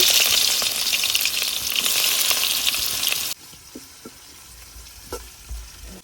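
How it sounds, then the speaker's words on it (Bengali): Chopped onions hitting hot oil in a pot set up a loud, bright frying hiss that cuts off abruptly partway through, leaving faint clatter and low sizzling. "পাতিলে দিয়ে দিতেছি এখন তেল, পেঁয়াজ কুচি,"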